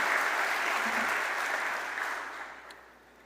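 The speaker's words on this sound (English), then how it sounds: "Let's give Dr. Gonzaga a round of applause" Audience at a medical school white coat ceremony applauding Dr. Gonzaga, a soft, steady round of clapping from a large hall that gradually fades away.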